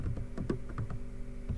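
Computer keyboard typing during an xv6 debugging session, a few quiet, uneven key clicks close by over a low steady background hum.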